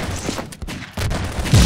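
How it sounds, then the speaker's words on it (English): Rocket from an RPG bursting in Half-Life 2 Deathmatch, a loud, broad crackling blast broken into several rough pulses that swell again near the end, with no voices. "A rocket. It's our RPG."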